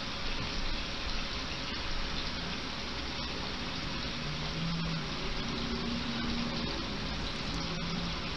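Tap water runs in a steady, broadband rush while someone washes their face with Ivory soap, close and continuous with no break.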